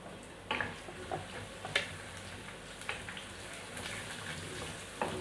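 Finely chopped garlic dropped into hot oil in a pan, a soft continuous sizzle with scattered small ticks and pops, fairly faint and without voices.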